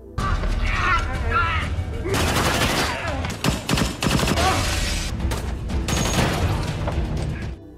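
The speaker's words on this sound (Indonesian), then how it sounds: "Namun sialnya satu gadis sandraan itu malah menembak anak buah Janko." Gunfire in a movie fight scene: rapid bursts and scattered shots mixed with mechanical clatter and impacts, loud and dense throughout with brief lulls between volleys.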